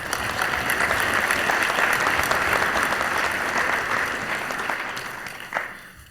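A large live audience at a political talk applauds loudly and continuously, a thick steady roar of clapping that tapers near the end as a few last claps trail off.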